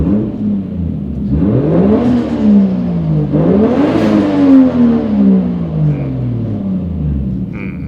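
A Toyota Chaser JZX100 with its 1JZ engine, back running after an oil leak repair on a car left undriveable by an accident, is revved repeatedly, rising and falling in loud, close engine surges.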